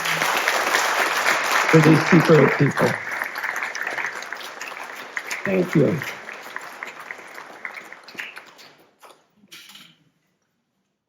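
Audience applause swells and holds as a steady mass of clapping, with a speaker briefly talking over it, then tapers off into silence near the end.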